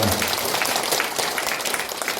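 A lecture audience applauds steadily, dense hand clapping filling the room at an even level throughout, with no clear speech over it.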